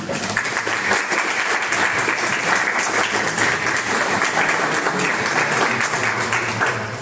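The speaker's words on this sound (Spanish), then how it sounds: "les pido un aplauso de bienvenida" Steady applause of welcome from an audience at a student-organized talk and debate, dense continuous clapping at an even level for several seconds with no voices on top.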